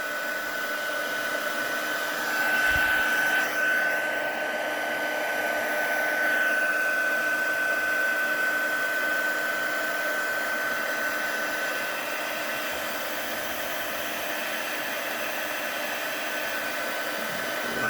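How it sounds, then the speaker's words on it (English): Heat tool blowing hot air onto a card for paper crafting, a steady whirring hiss with a constant high tone that runs unbroken throughout, close and fairly loud. "Now if you let your heat tool heat up a little bit"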